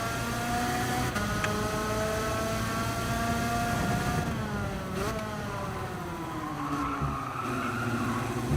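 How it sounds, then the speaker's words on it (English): Race car tyres skid and squeal in Gran Turismo 7 lobby racing, long tonal squeals that rise and fall over a steady engine drone for several seconds, close and loud, with no talk. "Get these tyres nicely warmed up for this one."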